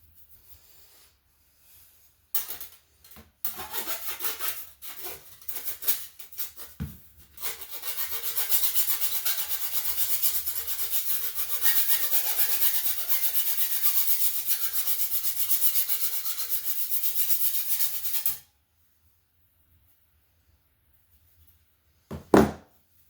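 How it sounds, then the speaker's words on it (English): Filing on a part of a rebuilt 4L60 automatic transmission valve body from a 1989 vehicle: short rasping strokes at first, then a long steady run of close, loud scraping that stops abruptly, with no talk. "A bit more filing."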